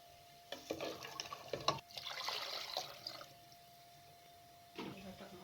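Water poured into a pot of browned beef nihari on a home stove: a few scattered clinks, then a rushing, splashing pour lasting about a second, and a brief final splash, all faint with no talking.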